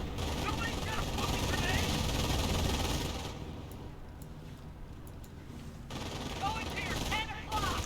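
MG42 machine gun bursts and other gunfire from a Company of Heroes battle, a dense rattle of shots that eases midway then resumes.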